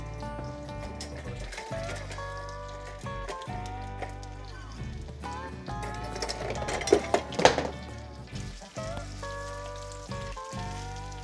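Muskrat meat sizzling and frying in a hot skillet, a steady crackling hiss that swells with bursts of spattering, heard under music and faint talk.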